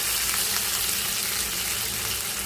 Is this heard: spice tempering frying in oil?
yes